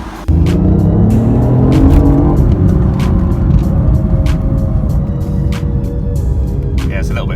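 A BMW M235i with its catalytic converter removed and a new downpipe installed drives off, its loud raspy exhaust rising in revs, with a shift and crackling pops as it pulls away close by.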